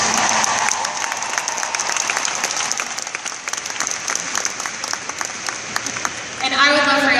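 An audience claps steadily at a #whitecouch event, dense applause with a few cheers running throughout, and a voice begins speaking near the end.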